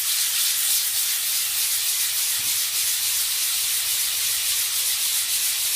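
A hand-held 50-grit green diamond burnishing pad rubs across a surface, giving a steady, close, continuous abrasive scrubbing hiss with no talking.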